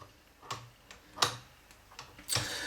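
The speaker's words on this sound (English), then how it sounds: "You can hear that safety switch going." Sharp clicks from the safety switch on an iCoffee coffee roaster, four or five irregular ticks spaced about half a second apart, close and fairly quiet, with no voices.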